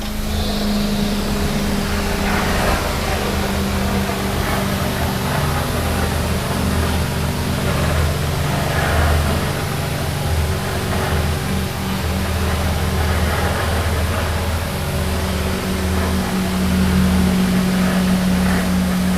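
Hydro-Force CX-15 carpet cleaning machine running during residential cleaning in Redding, California, giving a loud, continuous rumbling engine drone with a steady hum that stays constant throughout, with no talking.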